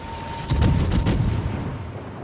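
Naval guns fire at a Z46 destroyer in World of Warships, a rumbling salvo of heavy booms clustered around the middle, with a few sharp reports over a low, continuous battle rumble.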